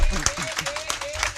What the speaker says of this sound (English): Yeah, clap it up. Clap it up.